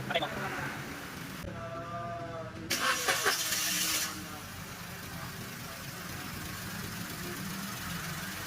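A car engine cranks and catches after two new ignition coils are fitted to a misfiring motor, giving a short starter whir followed by a steady running rumble.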